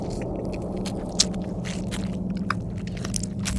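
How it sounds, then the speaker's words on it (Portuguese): Wet, crunchy bite into a tomato used as a zombie bite sound effect, close and squishy, with a sharp snap partway through and a low hum underneath. "É só um cara mordendo um tomate."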